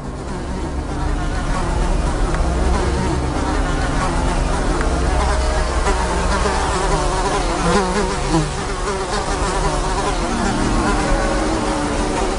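Dense, steady buzzing of insects swarming around red, bucket-shaped carnivorous pitcher plants on a Venezuelan tepui, a continuous droning hum that stays loud and unbroken throughout.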